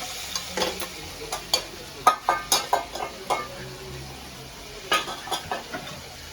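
Chicken frying in hot tempering oil for a Malvani-style village chicken dish, a close sizzle broken by a series of rhythmic scraping stirs and clatters against the pot.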